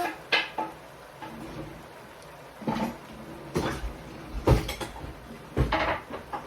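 Lasagna meat sauce being turned in a pot with a utensil: intermittent knocks and scrapes of the utensil against the pot, separated by short quiet gaps.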